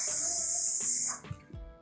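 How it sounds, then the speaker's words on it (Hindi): Hairspray hisses onto hair while a sleek, pulled-back joora is styled for a Pakistani festive or wedding look. One close, steady spray lasts about a second, then cuts off, followed by quiet handling. "जल्दी से हमने इसको स्प्रे करना है"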